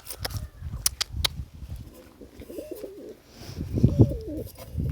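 Wild pigeon cooing outdoors, a few soft rolling coos rising above low ambient rustle and sharp clicks, with a louder burst of cooing near the end.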